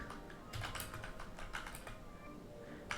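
Quick bursts of keystrokes on a computer keyboard while typing a command into a Python shell, soft close clicks in short irregular clusters with brief pauses, no voice.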